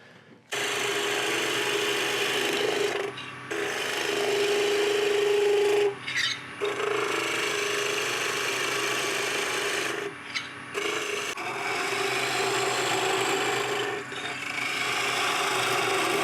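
A wooden tool handle is smoothed on a woodturning lathe, a continuous rasping rub with short pauses as the tool lifts off the spinning wood.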